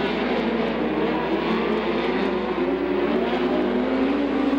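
USAC midget race cars roar around the Knoxville Raceway dirt track, a loud, dense, continuous engine snarl with shifting pitch from several cars at once, without talk.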